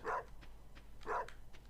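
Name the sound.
dog barking in Stardew Valley video game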